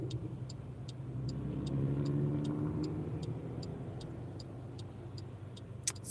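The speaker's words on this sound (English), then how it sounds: "There's some kind of rattle in the car." Regular light ticking rattle repeats inside a moving car on a cold rainy day, over a low engine hum that swells then eases, ending with a sharper knock.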